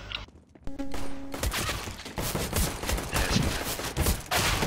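Rapid bursts of gunfire from a Counter-Strike match, a dense fusillade of shots repeating close and loud across the whole stretch with no talk.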